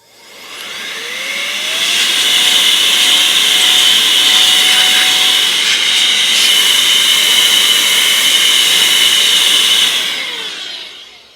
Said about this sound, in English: It's an endless can of air.